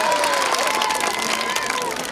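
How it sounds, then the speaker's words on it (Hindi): A crowd at an English-medium school event claps and cheers in a dense, continuous roar, with shouting voices mixed into the steady applause throughout. "जोरदार तालियां बजाओ भाई।"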